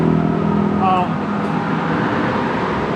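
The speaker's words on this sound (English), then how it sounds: "The traffic doesn't help." Road traffic rumbles steadily and loudly beside a travel trailer being shown outdoors, a continuous broadband roar with a passing vehicle tone, under a person talking.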